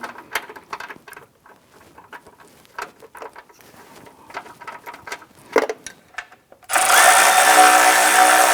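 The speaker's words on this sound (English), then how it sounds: "So we'll go ahead and tighten this bolt down" A power tool tightens a bolt on the engine of a 2001–2005 Honda Civic during a crankshaft seal job, a loud steady whir starting abruptly after several seconds of small clicks and handling noises.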